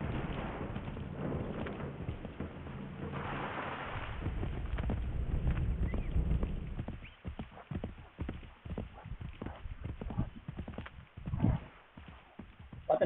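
Horse hooves galloping in Assassin's Creed 3, a fast and uneven clip-clop that starts under a windy rush and then turns into clear, close hoofbeats over faint background noise.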